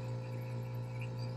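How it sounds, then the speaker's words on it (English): A vacuum pump draws air out of a glass bell jar, giving a steady, even mechanical hum that runs alone without pause. "now it's pumping air out of that bell jar"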